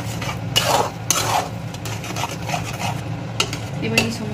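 Pav bhaji mixture stirred in a pan with a little added water, giving repeated scraping and clinking strokes of a spoon against metal over a soft sizzle, close up with no talking.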